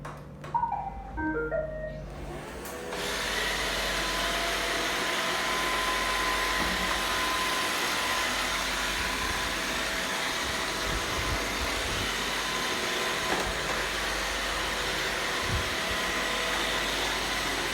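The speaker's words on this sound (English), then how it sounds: "When the robot cleaner hits something, it move away." A robot vacuum cleaner starts after a few short electronic beeps, then runs with a steady whirring motor and brush hum, close and continuous, with occasional faint bumps.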